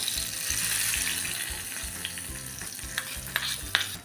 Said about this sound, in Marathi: आता तडका रेडी झाला आहे आपण ह्यामध्ये घालूया